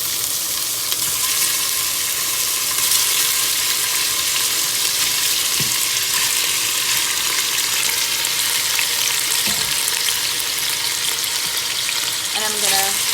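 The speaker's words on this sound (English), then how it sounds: "mix this in so it fry up a little bit, it get brown and caramelized" Salted beef sizzles steadily in about two tablespoons of oil for a Guyanese cook-up rice, a dense, continuous frying hiss with a couple of soft knocks and no talking.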